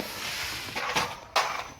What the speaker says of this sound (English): Now it's really windy outside, guys, so please excuse the noise.